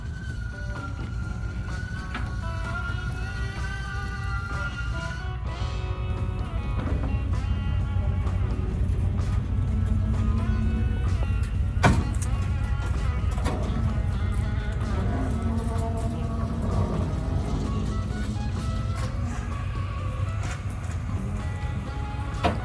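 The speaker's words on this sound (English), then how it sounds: "we've got a winch truck right here pulling straight through to get this thing up on these ramps" A winch truck hauls an abandoned 1984 Mercedes wagon, idle for ten years, up onto trailer ramps, with a steady, fairly loud mechanical drone and whine holding throughout, a few sharper knocks breaking in along the way.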